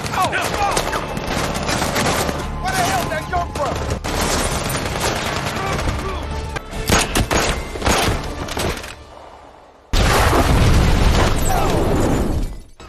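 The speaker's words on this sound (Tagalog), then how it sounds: "Gumanti ng putok sina Michael at Kincaid habang nagtatago at sumabog ang kanilang sasakyan" Heavy film gunfire in rapid bursts and booming blasts, ending in a loud car explosion, with music and shouting mixed in.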